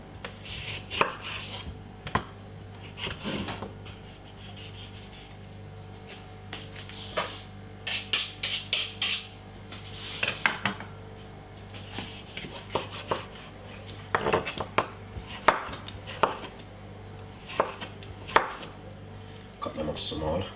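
A knife chops cucumber into small pieces on a board, giving clusters of quick, sharp, close taps in irregular bursts with brief pauses between them.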